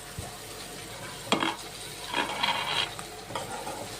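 Chicken fry sizzles steadily in a hot pan while a spoon stirs and scrapes through it, giving a few sharp metallic clinks over the continuous close frying hiss.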